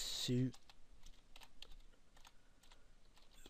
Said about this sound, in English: on this section, I'll type in the